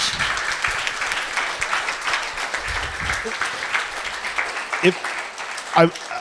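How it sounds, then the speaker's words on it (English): An audience claps steadily after a fireside chat on stage, with the applause continuing evenly and a voice and a couple of brief knocks near the end. "can we have a round of applause for Dave?"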